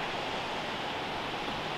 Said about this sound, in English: Ah, I love the sound of the water.